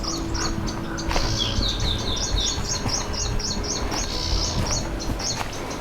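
Jungle birds in Chandoli National Park, Maharashtra, sing in repeated high chirping phrases over a steady, dense background hum of forest ambience.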